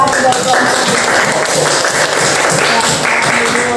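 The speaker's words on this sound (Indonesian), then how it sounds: "Iya, tepuk tangan untuk Angel." Students applauding a classmate in a school classroom, steady dense clapping close by for a few seconds with chatter and talk mixed in.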